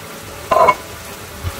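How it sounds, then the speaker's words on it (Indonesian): Kwetiau flat rice noodles are stir-fried in a pan for kwetiau goreng with shrimp: a brief scraping stir with a short sizzle burst stands out over a low, steady frying hiss, with a faint second knock afterward. "Baru dimasukin kue tiaonya, aduk-aduk"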